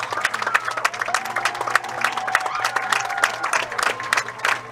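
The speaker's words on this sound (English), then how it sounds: "let's honor our service members with a grateful round of applause" Crowd at a high school football game on Military Appreciation Night applauds service members, steady scattered clapping with some cheering, moderately distant and sustained.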